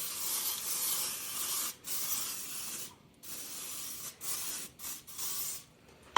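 Oil is sprayed onto a mantu steamer tray in a home kitchen in several close, hissing bursts separated by short pauses, with no talking.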